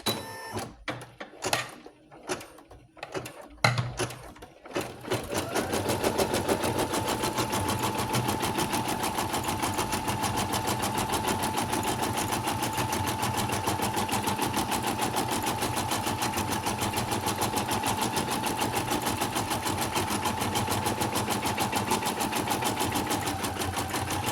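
A sewing machine stitches in a steady, continuous mechanical whir for about twenty seconds, following a few seconds of clicks and handling as the foot is attached; no talking.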